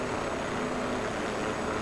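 Steady, broadband rotor and engine drone of an H500C helicopter in flight in Microsoft Flight Simulator during a training flight in Greenland, continuous and fairly loud, with no other sounds.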